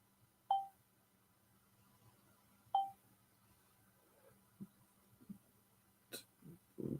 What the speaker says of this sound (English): My phone's going crazy on me, people.